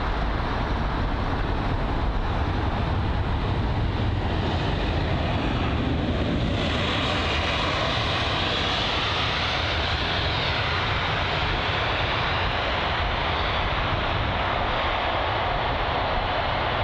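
An SAS Airbus A320neo holding short at London Heathrow gives off a steady, broad jet-engine roar that fills the whole stretch evenly at moderate distance, with no voices.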